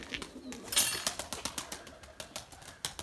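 A male pigeon beats its wings as it lands, giving a rapid series of soft, rhythmic flaps close by that gradually slow, with a faint coo mixed in.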